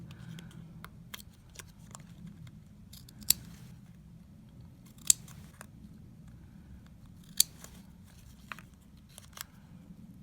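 Scissors snip through a juice carton while cutting out a house shape for a winter village luminary. Sharp, crisp clicks come at an irregular pace over a quiet background, with no talking.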